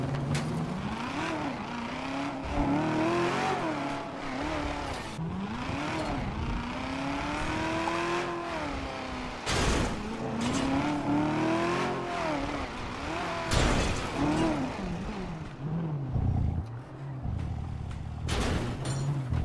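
Engine of a car in GTA V roleplay revving and accelerating on a mountain drive, a loud, wavering motor with repeated rises and drops in pitch, occasional sharp knocks, and little talk.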